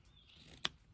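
A single sharp scissor snip through vintage feedsack cotton fabric, trimmed straight across while sewing a coin purse; one brief, close crisp cut over quiet room tone.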